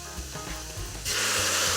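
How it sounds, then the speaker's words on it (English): Vegetables hit a hot pot for carrot coconut soup, starting with quiet stirring and scraping, then a loud, steady, hissing sizzle that stays near and close. "Can hear the sizzle."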